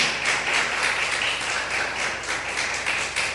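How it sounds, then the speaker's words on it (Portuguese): Church congregation applauding during a worship service, a dense even wash of clapping that stays loud and steady throughout with no talk over it. "Vamos aplaudir o Senhor Jesus bem forte."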